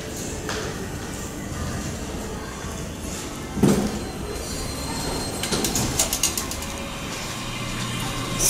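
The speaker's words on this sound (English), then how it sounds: "These are the elevators here at Nordstrom, Westfield, Montgomery." Otis traction elevator machinery at a Nordstrom department store in a Bethesda shopping mall grinds and whirs steadily. A sharp clunk lands partway through, and a run of ratcheting clicks follows, close and moderately loud.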